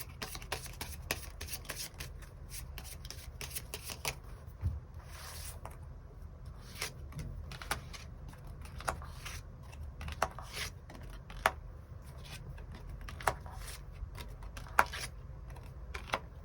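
Tarot cards are shuffled and drawn in a quiet room, giving a steady run of soft papery riffles and light slaps, with sharper card snaps scattered throughout and no talking.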